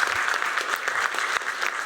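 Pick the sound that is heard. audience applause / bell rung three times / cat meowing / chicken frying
audience applause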